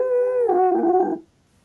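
A voice imitates a wolf howl, one short modulated wail with a wavering pitch that is cut off after about a second, followed by silence.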